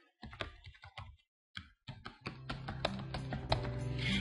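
Keys clatter on a computer keyboard while typing a description for a connection in Excel, with short bursts of taps, a brief pause, then a faster, denser run of keystrokes, close and fairly quiet.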